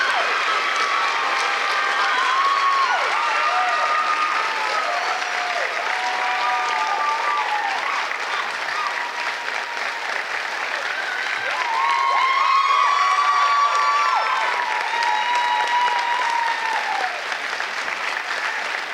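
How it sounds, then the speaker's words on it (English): Sustained audience applause at a student achievement celebration as an outstanding senior award is presented, a dense steady wash of clapping with some whoops and scattered voices rising above it throughout. "Let's clap for him one more time."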